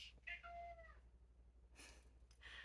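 A cat meows softly indoors, one drawn-out rising call followed by a quieter second sound, faint against a low room hum.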